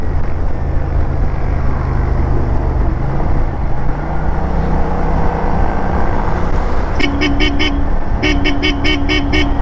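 A motorcycle engine runs close by with a loud, steady droning rumble, joined near the end by short repeated electronic beeps in quick bursts.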